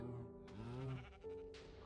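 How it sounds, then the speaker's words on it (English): Sheep in the video game Agrarian Skies give a couple of short, wavering bleats one after the other, clear and fairly close with no talk over them. "I do have 2 sheep up here"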